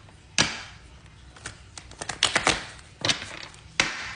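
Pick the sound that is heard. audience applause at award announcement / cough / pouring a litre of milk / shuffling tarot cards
shuffling tarot cards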